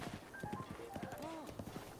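Horse hooves clip-clop in The Legend of Zelda: Breath of the Wild, a steady run of close hoofbeats with brief whinny-like tones mixed in over a busy game soundscape.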